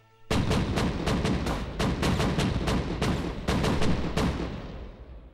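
Cannon bombardment in a kung fu film attack on a Shaolin temple: a rapid, irregular barrage of loud booming blasts, more than a dozen heavy shots in quick succession with rumbling decay between them.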